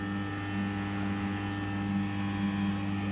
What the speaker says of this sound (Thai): ก็จะมีเสียงค้างแต่ปกติของหม้อแปลงเทอร์ลอยนะครับ